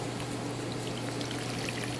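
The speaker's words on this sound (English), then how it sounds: "Pour hot water over the top." Hot water poured over dried corn husks in a kitchen, a steady continuous splashing trickle at close range with no talk.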